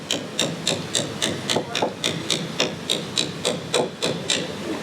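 A chisel is tapped and pared through wood to clear excess from a door lock cutout, making a quick, regular series of close, crisp knocks mixed with a rasping scrape.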